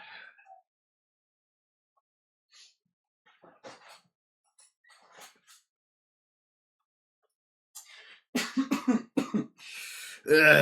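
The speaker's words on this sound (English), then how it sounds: "I've been coughing a good bit." One person coughs and clears the throat in scattered, faint bursts, building to a louder run of harsh coughs near the end.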